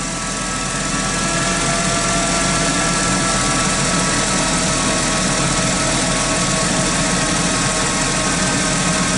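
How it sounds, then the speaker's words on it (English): A Chrysler vehicle idles with a transmission fault, a steady dense engine rumble carrying a constant high whine, close and loud throughout with no speech. "I noticed that the whining sound gets a little bit more vigorous too."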